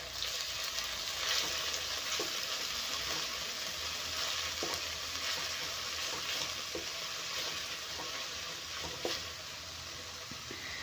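Noodles fry on a high flame in a long, even hiss of sizzling oil, with light intermittent clicks and scrapes of stirring scattered throughout, close and steady without voices.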